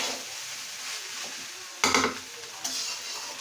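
Rice stirred and fried in a pan, a steady close sizzle broken by a couple of louder scraping stirs of a utensil against the pan, with no voices.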